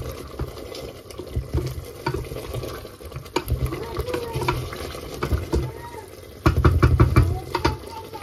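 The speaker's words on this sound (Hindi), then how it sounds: "अब मैं इसमें जो है ना पानी डालूँगी।" Water is poured into a cooking pot on the stove, giving an uneven splashing and stirring sound with sizzling, close by, while someone speaks intermittently.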